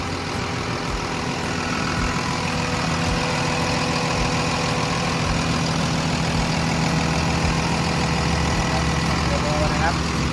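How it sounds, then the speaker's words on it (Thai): A heavy diesel engine of a Komatsu WA320-7 wheel loader idles steadily up close, a constant low rumble with a mechanical hum throughout. "เสียงเครื่อง การทำงานของตัวเครื่องยนต์ของเขานะครับ"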